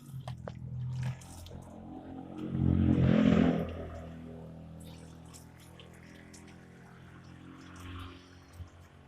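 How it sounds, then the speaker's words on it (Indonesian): Water drains out of the open bottom of a Zebra Espass car radiator while it is flushed by hand, a loud splashing gush lasting about a second, followed by a faint trickle and small drips. "Ini ditutup bawah masih kebuka ya, jadi airnya langsung keluar"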